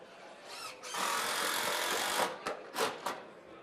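Power drivers sink screws to sister lumber joists during a timed builders' challenge, with a long sustained whir followed by several short bursts, close and loud against workshop noise.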